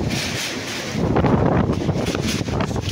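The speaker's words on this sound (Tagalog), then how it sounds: "kahit sobrang lakas ng hangin, nago pa rin" Very strong typhoon wind roars and buffets the microphone, a loud, continuous rushing that surges heavier partway through.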